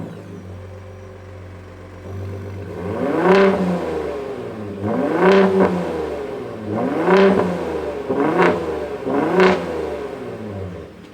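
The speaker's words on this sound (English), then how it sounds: "why don't we fire it up and hear what this new exhaust sounds like" A 2022 Ford F-150 Raptor pickup idles on a newly fitted aftermarket exhaust, then revs hard five times in a steady rhythm, each loud, close burst rising and falling back to a low rumble.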